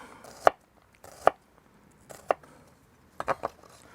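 A Snowball onion, an overwintered variety, being chopped on a board: five or six crisp knife thuds spaced unevenly, close and clear with quiet gaps between and no talking.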